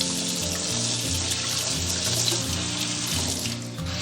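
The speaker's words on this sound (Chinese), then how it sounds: "我们再次给它清洗干净" A river eel is rinsed under a running kitchen tap, giving a steady, close rush of water with a hiss and splash over the whole stretch and no talking.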